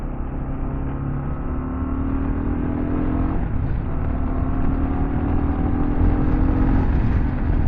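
A Kawasaki KLR650 single-cylinder motorcycle on a quick test ride, its engine droning steadily close by with rising and falling revs as it accelerates, and wind noise mixed in; no talking.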